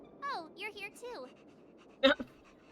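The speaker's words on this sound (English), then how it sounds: "What a cute doggy!" A cute cartoon dog in the video game Honkai Star Rail pants and whimpers in a few short, soft bursts, with a character voice speaking briefly alongside.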